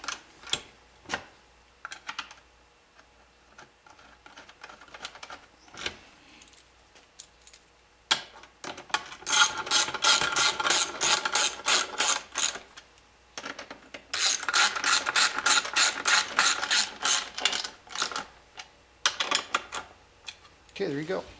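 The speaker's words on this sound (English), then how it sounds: "You want to use these holes right here with these 10 millimeter wrench." A 10 mm wrench tightens mounting bolts fixing a Logitech G25/G27 wheel to the lap bar of an Xlerator XL20/XL21 wheel stand, giving two long bursts of rapid close ratcheting clicks among scattered knocks and handling taps.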